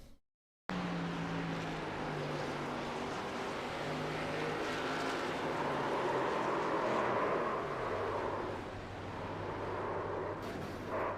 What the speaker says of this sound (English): You can hear the engine expire on that 60 machine.